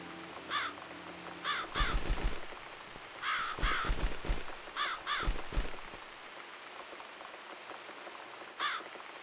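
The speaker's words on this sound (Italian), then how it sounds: "Allora, caro corvo." Crow cawing in The Cat Lady video game, a set of sharp, harsh caws in short bursts of two or three, mid-distance over a steady hiss of rain, with heavy low thuds in the middle and a final lone caw.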